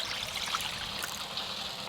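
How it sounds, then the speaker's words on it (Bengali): Water is poured into a kadai while cooking kachu loti (taro stolons), giving a steady close trickle and splash that runs the full stretch with no talk. "এবার কড়াতে জল দিয়ে দেব।"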